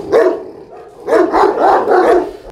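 A dog barks several times in quick succession, one bark then a cluster of three or four, close and loud.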